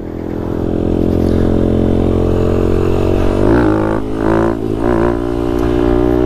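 A motorcycle fitted with a DHM piston runs loud and close, its engine note steady at first, then blipping and revving briefly before settling back to a rough, even idle.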